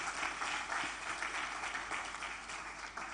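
Faint, steady applause from an audience at a university science event rolls on in an even wash of clapping, somewhat distant and low in level.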